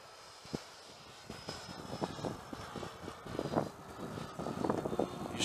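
A Freewing F-15 model jet flying, a faint whine that sweeps past and fades among gusts of wind and scattered outdoor knocks, with no talk.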